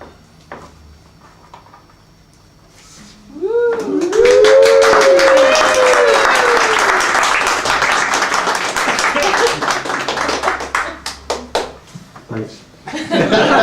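An audience at a juggling and stand-up comedy show breaks into loud, sustained clapping that swells after a quiet start and gradually thins into scattered claps, with a whoop or laughter over the top.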